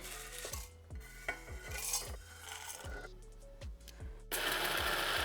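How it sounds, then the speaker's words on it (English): Toasted spices for chicken dhansak whir and rattle in an electric grinder, a close mechanical buzz with repeated knocking pulses and short pauses, ending in a louder burst of grinding. "My spices are cooled down. Let's grind them."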